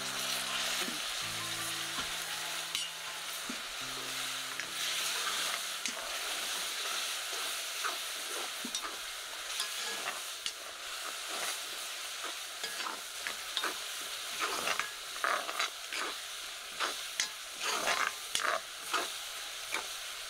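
Spice masala with ginger, garlic and onion fries in a pan with a splash of hot water while being stirred, giving a steady close sizzle broken by scraping stirs; a short burst of music opens it.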